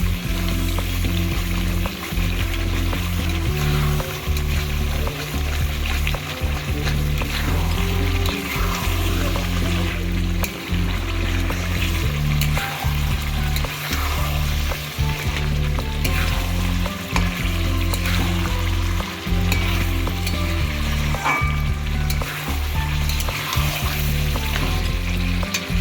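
Chicken kosha cooks down in a pan, frying and being stirred until its added water dries off, with a continuous loud sizzle and rhythmic scraping of the spoon repeating through the whole stretch.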